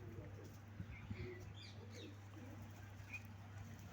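Faint, soft cooing from pigeons kept with their two chicks, low throaty calls repeating quietly under a steady hum while someone speaks nearby.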